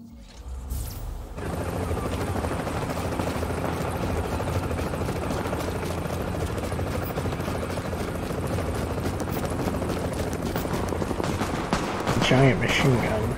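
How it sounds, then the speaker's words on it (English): Sustained heavy machine gun fire from The Division video game, a dense continuous burst of rapid shots running almost the whole clip at steady loudness, with a brief louder flurry near the end. "Giant machine gun"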